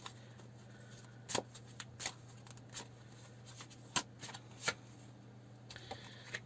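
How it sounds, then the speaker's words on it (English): Tarot cards being shuffled by hand, heard as faint, scattered crisp riffles and flicks over a low steady hum, close but quiet, with no talking. "I'm going to just pull another card on that one"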